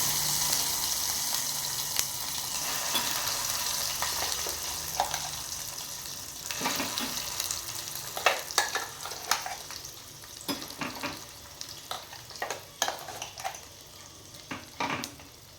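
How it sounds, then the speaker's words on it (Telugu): Ground pudina chutney frying in a pan: a steady sizzle, with scattered stirring scrapes and taps that grow more frequent toward the end. Close and moderately quiet, with no talking. "అదే గిన్నెలో ఈ మిక్సీ వేసిన పచ్చడిని వేసేసుకుంటున్నాను."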